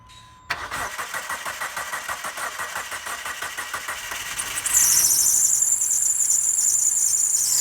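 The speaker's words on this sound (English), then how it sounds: "Let's go ahead and give it a start to let the fuel kind of get circulating through." A Dodge Neon engine cranks with a rapid rhythmic chugging starter for several seconds after its fuel injectors are replaced, then catches and settles into a steady running hum.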